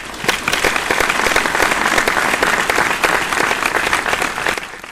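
Ministers, regional administration heads and other officials break into stormy applause in a government meeting hall as a newly elected regional governor enters, dense sustained clapping from a roomful of people, loud and close.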